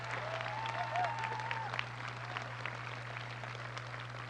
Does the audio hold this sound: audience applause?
yes